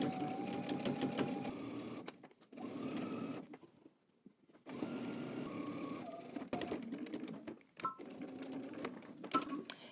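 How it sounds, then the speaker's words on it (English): A sewing machine stitches a collar band to a neckline at a 5/8 inch seam allowance with backstitching, running in several steady bursts separated by short pauses and one longer silent gap. "we're going to go ahead and stitch our collar band down to our neck using 5/8 of an inch seam allowance"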